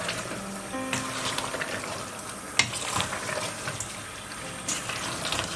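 Chicken mirch mastani fries in a pan while being stirred and mixed, a faint sizzle under scraping and clinking from a spoon against the pan, with one sharper knock partway through.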